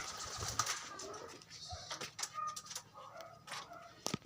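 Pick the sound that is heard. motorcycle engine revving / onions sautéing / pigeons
pigeons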